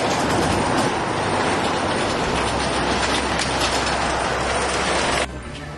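Steady, loud rumble and rattle of a moving tram or rail car heard from inside, with continuous rolling clatter that cuts off abruptly near the end.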